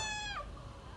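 A single cat gives one short, clear meow indoors, fading quickly into quiet room tone.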